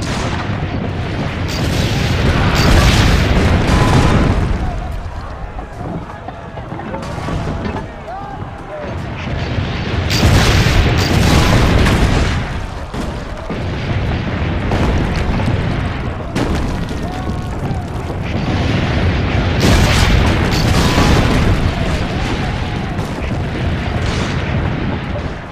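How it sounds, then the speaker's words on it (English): Cannon blasts in Assassin's Creed Brotherhood during a siege, with heavy booming shots landing in bursts over a dense battle din and a voice calling out in the mix. "Load the cannon."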